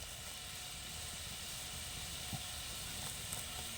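Fish curry broth boiling in a pot, a steady close hiss and bubbling simmer running throughout with a couple of faint pops, no talk over it.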